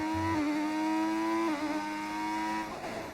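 A 1986-era Formula 1 car engine, a retro mod sound in the F1 25 racing game, holds a steady high-pitched whine, then shifts pitch as gears change around the Singapore circuit, loud and continuous with no talk.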